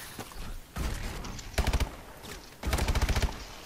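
Call of Duty Advanced Warfare gunfire in exo survival mode: scattered shots, then two quick rapid bursts of sharp cracks in close succession, fairly quiet in the mix.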